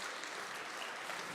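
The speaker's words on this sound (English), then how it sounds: "Please give him a round of applause." An audience at a Nigeria diaspora investment summit applauds, a dense, even wash of clapping from many hands that holds steady throughout.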